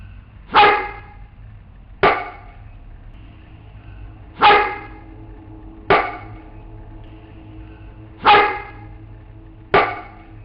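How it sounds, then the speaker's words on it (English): Six sharp, loud tree knocks or a dog bark spaced evenly about every two seconds, each ringing briefly, over a low steady background hum. "what you're going to hear is a faint whistle, the dog bark once, and then a very loud tree knock"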